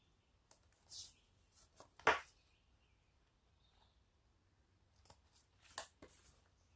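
Scissors trim fabric overhang from the edges of a backpack's side pockets in a quiet room, making several close, crisp snips spaced irregularly, with one louder cut among them and a brief cluster near the end.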